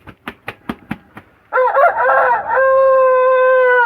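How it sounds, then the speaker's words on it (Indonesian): A chicken right beside the recording spot gives a run of six quick clucks, then lets out a loud, drawn-out crow that holds steady for over two seconds. "itu ada ayam samping"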